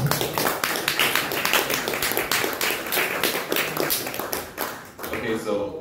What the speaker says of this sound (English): Let me get another round of applause for Mr. Geoff McCabe.